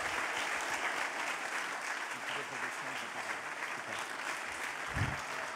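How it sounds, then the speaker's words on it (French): Sustained applause from a crowd at a closing ceremony, applauding children, fills the whole stretch, steady and dense, with a few voices mixed in underneath. "Super, bravo, on peut les applaudir."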